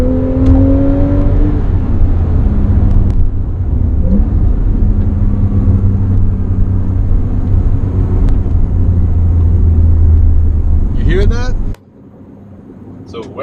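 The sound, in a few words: 2017 Porsche 911 Carrera S engine and exhaust revving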